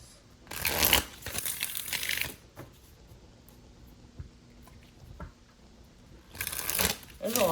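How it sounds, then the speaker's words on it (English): Tarot cards shuffled in two loud riffling bursts, one early and one at the end, with quieter handling and faint card taps between them and no speech. "Alright, 2 more shuffles."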